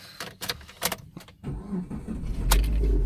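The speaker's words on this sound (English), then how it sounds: "And let's start the car. This is a Persona." A Proton Persona car starting up, with clicks and key rattles before the engine catches and settles into a steady idle that builds toward the end.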